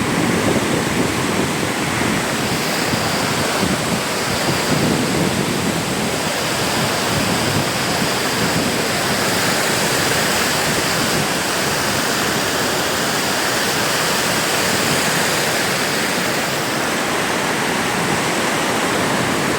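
Water pours over the Papanasam headworks dam in a dense, constant roar, loud and close throughout with no voices.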